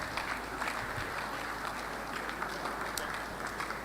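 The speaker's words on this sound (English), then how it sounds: "A round of applause for Dr." Audience applause at a medical graduands' induction ceremony, greeting the Commissioner of Health; a steady, moderately distant wash of many hands clapping throughout, with no clear voices on top.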